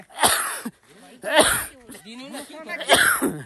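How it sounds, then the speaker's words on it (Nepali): A man has a dusty coughing fit, with three loud bursts of coughs, hoarse rasps and throat clearing between them, close to the listener. "यहाँनिर चाहिँ मलाई खोकी लागिरहेछ"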